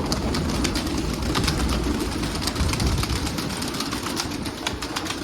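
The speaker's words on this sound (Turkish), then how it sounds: "içinde çok güzel kuşlar var" Pigeons in a coop coo and rustle close by against a steady, dense background hum, with occasional wing flutters and brief sharp chirps throughout.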